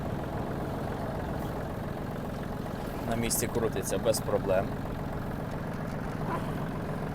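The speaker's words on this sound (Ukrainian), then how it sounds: "Заводиться трактор легко" A Yanmar RS-30 Japanese mini tractor's diesel engine idles steadily and continuously throughout, a low running drone with a brief louder burst of mechanical clatter midway, while someone talks over it.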